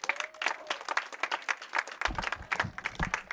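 A crowd at a varsity baseball game applauds the senior baseball players, with a scattering of distinct, moderately paced claps, a few people at a time, that continue for a few seconds.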